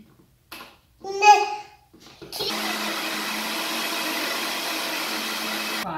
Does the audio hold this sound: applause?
no